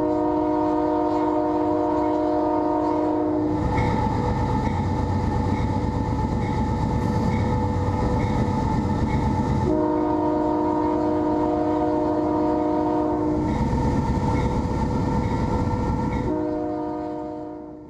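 An Indiana Rail Road locomotive horn blares in long sustained blasts over the steady rumble and rattle of a 1.5-mile-long coal train rolling close by.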